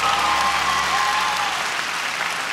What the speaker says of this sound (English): Come on, you're allowed to clap for that.